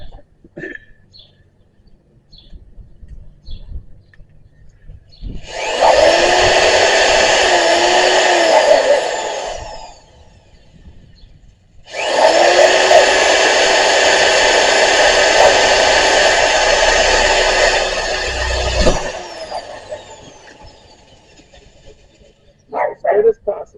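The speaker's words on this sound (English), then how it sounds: "let's get these holes drilled here" Power drill boring holes for a Larson pet door, two sustained loud whirring bursts of several seconds each separated by a pause, with quieter handling noise before and after.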